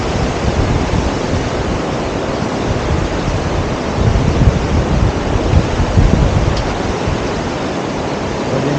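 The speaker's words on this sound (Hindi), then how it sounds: "और ये नदी बहती हुई," A mountain river in Urgam Valley rushes along near a waterfall, giving a loud, constant broadband roar of flowing water, steady throughout and slightly swelling midway, with no voices.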